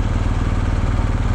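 Engine of a BMW R 1250 GS motorcycle on a test ride, a steady dense rumble with rapid low pulsing that holds at an even level throughout, close and continuous with no talk.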